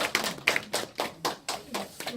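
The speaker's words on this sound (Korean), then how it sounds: "박수 한번." Applause from a Korean debate-event audience: a series of sharp, separate hand claps in an uneven rhythm, fairly close and moderately quiet.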